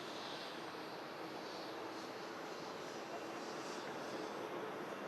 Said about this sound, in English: Nice touchdown from the Ryanair